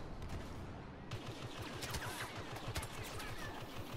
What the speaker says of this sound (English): Thermal imploder. It's just a very aggressive noise,